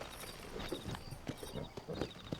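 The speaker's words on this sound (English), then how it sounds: "Oh, my horse is here." A horse's hooves clip-clop in Red Dead Redemption, an irregular series of soft knocks as the animal walks up, fairly quiet and mixed with faint ambient game sound.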